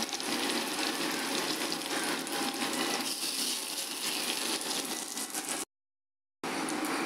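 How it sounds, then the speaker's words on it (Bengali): Small Malabar spinach leaf fritters frying in hot oil, a steady close sizzle and crackle that runs on, broken by a short silence near the end. "ভালো করে ভাজা হবে।"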